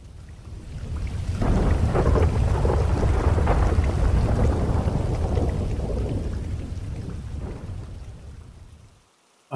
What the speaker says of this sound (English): There's a storm moving in. The wind is blowing and there's lightning up in the north, with the occasional rumble of thunder.